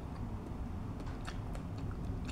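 Close, quiet biting and chewing of an Indian mango, with a string of small moist crunches and mouth sounds spaced irregularly over a low steady background.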